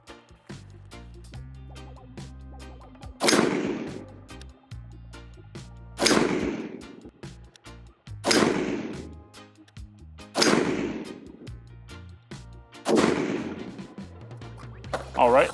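An ATI Omni MAXX hybrid polymer AR-15 chambered in .223 fires Federal 73 grain open tip match ammunition, giving five sharp, loud, evenly spaced shots about two to three seconds apart with quiet clicks and handling between them.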